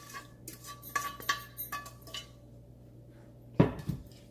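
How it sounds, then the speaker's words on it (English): Seasoned vegetable mixture and butter go into a pot of white rice in a home kitchen, with a series of light metallic clinks and scrapes of a utensil against cookware, then a quiet gap before one sharp, louder clatter near the end. "So let's go ahead and add our seasoned vegetable mixture, the butter, all that."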